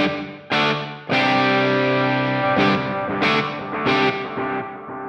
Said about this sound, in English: It's on spring right now. Let's go to plate. Maybe bring the level down a little. Cool. And can I add some delay?